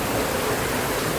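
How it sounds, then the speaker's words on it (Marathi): Heavy rain pours down with water running off nearby, a dense, even rushing hiss with no breaks and no voices. "जोरात पडतोय बघ, पत्र्यावरून पाणी नाही निघालं, पण इकडे निघालं."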